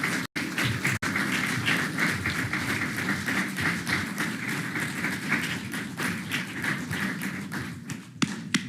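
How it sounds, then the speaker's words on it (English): Audience applause for the candidates at a DC delegate and mayoral debate at George Washington University: steady, dense clapping from a crowd in a hall, continuing loudly for several seconds with a few sharp thumps near the start and end. "Let's give them a round of applause."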